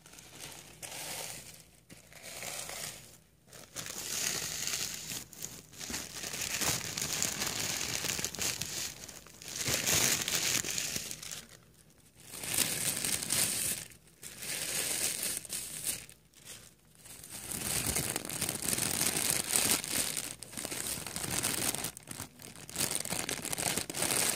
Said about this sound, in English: Some green tissue paper.